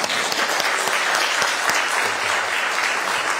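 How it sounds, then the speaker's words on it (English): Audience at a televised debate between Republican candidates for West Virginia attorney general applauding, a dense, loud, continuous wash of clapping that holds steady throughout. "now would be a great time for applause"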